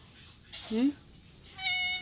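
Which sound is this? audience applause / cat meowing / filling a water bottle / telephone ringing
cat meowing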